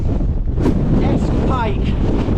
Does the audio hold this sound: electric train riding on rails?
no